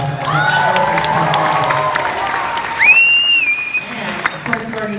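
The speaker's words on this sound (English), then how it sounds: "Okay, one more round of applause." Audience at a fashion panel on clubs and the runway applauds and cheers, sustained clapping with shouts and a loud whoop rising over the crowd midway.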